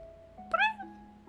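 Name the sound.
person imitating a cat meow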